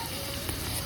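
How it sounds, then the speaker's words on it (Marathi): Onion and coriander frying in a heavy pot over a wood-fired stove, a steady close sizzle with crackling throughout and no talking. "हा कांदा चांगला लाल तळून झाला. कांदा चांगला लाल तळलाय. आता कोथमीर बी टाकून घेऊ म्हणजे कोथमीर बी वाईस तळून निघल."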